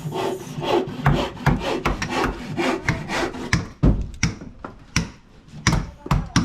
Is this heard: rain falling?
no